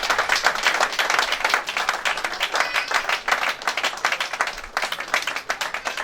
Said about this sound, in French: Sous vos acclamations s'il vous plaît.